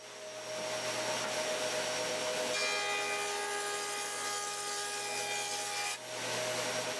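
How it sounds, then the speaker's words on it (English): A wood jointer runs steadily as boards get a clean square edge for a coffee table build, its loud spinning cutterhead giving a continuous whir with a brief dip near the end. "I could put a clean square edge on each piece over at the joiner"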